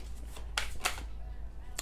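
Tarot cards being shuffled by hand, with a few crisp riffling bursts and soft flicks over a low steady hum, close by and fairly quiet.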